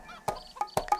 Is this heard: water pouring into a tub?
no